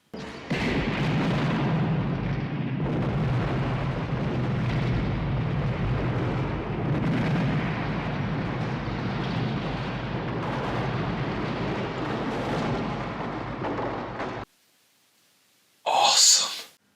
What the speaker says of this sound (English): check out this explosion